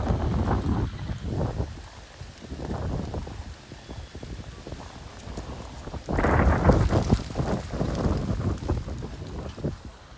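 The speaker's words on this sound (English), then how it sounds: "Okay, here comes the wind." Gusty wind rushes steadily, swelling louder partway through, with a dry clicky rustling clatter of palm fronds high overhead and no talking.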